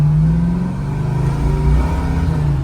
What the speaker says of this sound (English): We're now going to go for a ride in our 1969 Chevy Camaro. 502 big block, 5-speed.